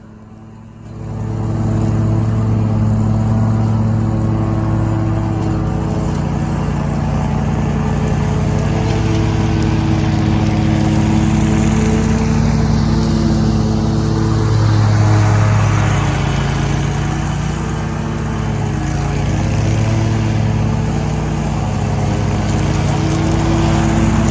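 A lawn mower engine drones steadily and loudly while mowing a commercial property near a road during a spring cleanup, holding a constant hum for the whole stretch with no talking.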